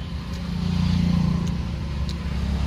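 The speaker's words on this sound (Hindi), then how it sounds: "तो देखो एपटू गाड़ी आसुची" A road vehicle draws closer, its low engine hum swelling to a steady drone, with a few faint high clicks above it and no talking.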